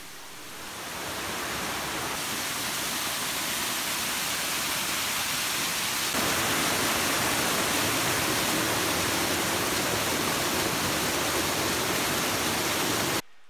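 Berry Creek Falls waterfall in Big Basin, California, a steady broadband rush of falling water that swells in over the first seconds and holds evenly, continuous and fairly close, with no voices.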